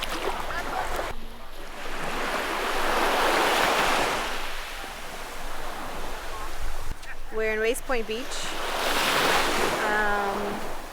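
Soft surf washes steadily on a Cape Cod beach with unusually small waves under gusty wind, while people talk nearby in short bursts.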